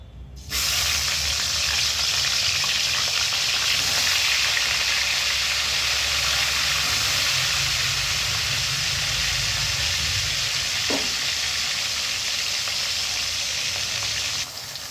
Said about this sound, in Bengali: তেলটা গরম হয়ে গেছে, আমি এবার মাছগুলো ভাজতে দিয়ে দিচ্ছি